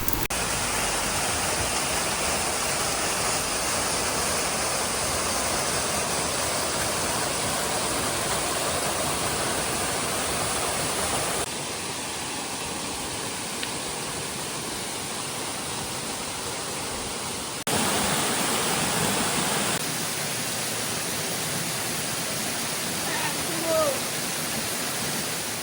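A waterfall at the Virgin's falls in Baños, Ecuador, a dense, steady rushing roar that fills the entire stretch, shifting level abruptly a few times, with faint speech underneath.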